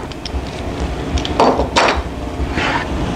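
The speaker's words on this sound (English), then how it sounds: "Take our clamps off." Clamps are taken off a router jig while repairing SOSS hinge mortises, giving a few separate clunks and knocks of hardware against wood over a steady low background hum.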